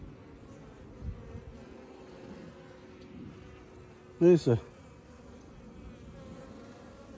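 Honey bees hum steadily around an open beehive in a sunny apiary, with a continuous close buzzing throughout and a brief voice cutting in partway.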